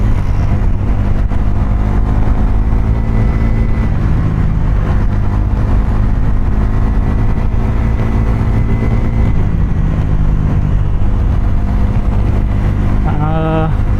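A Bajaj NS400Z motorcycle with a Dominar engine rides through Mumbai traffic, its steady engine drone loud and continuous with a constant rumble; a short horn toot sounds near the end.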